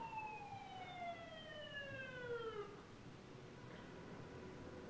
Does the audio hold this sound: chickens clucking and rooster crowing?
no